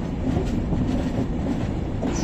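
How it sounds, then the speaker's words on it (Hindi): A train runs on the Konkan Railway, rounding a horseshoe curve, with a continuous loud rumble and clatter of wheels heard from on board and no speech. "एक शानदार हॉर्स शू कर्व की तरफ मुड़ते हुए हमारी ट्रेन जा रही है"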